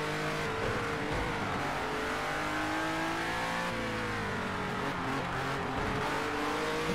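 Race car engine in the Project Cars 2 racing game roaring steadily at high revs, pitch sweeping up and down through gear changes and corners, loud and continuous without talk.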